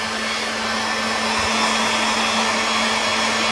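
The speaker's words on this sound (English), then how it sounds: "So all I'm doing is just warming up the knife with the wood with the heat gun" Heat gun on a low setting warming a wooden-handled knife, a steady close blowing whine with a constant hum, continuous and unbroken.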